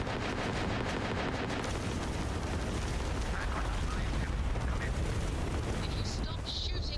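Spaceship weapons fire in the video game Starfield, a loud continuous barrage of rapid shots and booming impacts filling the scene, with a voice speaking over the din.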